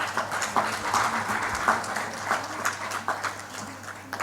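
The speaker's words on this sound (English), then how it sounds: "Once again, a round of applause." At a heart-care awareness conference, the audience applauds after a group photograph, producing a steady wash of clapping from a crowd, moderately loud and sustained, with faint background murmur.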